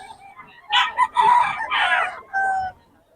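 Chickens and roosters at a Bocaue market crow loudly and close by, one long crow in several rising and falling bursts followed by a shorter call, with faint background noise.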